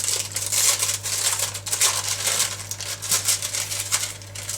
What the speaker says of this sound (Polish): I rozkładamy nasze ciasto francuskie.